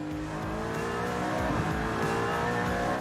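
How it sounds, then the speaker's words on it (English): A 575-horsepower V8 in a BMW Alpina race car revs hard, its rising and falling engine tones steady and loud for three seconds, with no voices over it. "when the V8 engine with 575 horsepower responds to the throttle"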